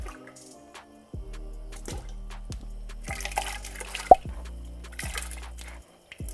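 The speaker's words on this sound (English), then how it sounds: "Now we're gonna add the feet and the tripe." Pig feet and tripe dropped into a pot of water on the stove, with wet plops, squishes and drips as the pieces go in one after another, close and fairly quiet.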